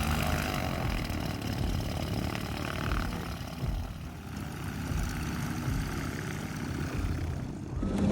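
Rear engine of a Cessna Skymaster 337 running steadily, a continuous broadband propeller drone with engine rumble that holds level throughout, close and fairly loud with no talk.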